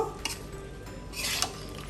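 Chalta pickle is stirred in a pan after vinegar is added, a utensil scraping and clinking against the metal in short strokes over a faint background sizzle.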